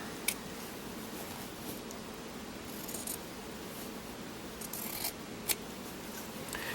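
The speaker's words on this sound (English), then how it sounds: "I'm cutting away the seam there" Scissors snip through the seam of a garment being cut into strips of fabric yarn, soft slicing and rubbing with a few sharper clicks, close and quiet, no voices.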